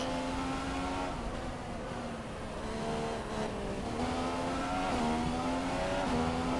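A Formula One race car engine in the F1 2015 video game at the Bahrain Grand Prix, a steady high-pitched whine holding near constant revs with small gear-shift dips, loud and continuous throughout.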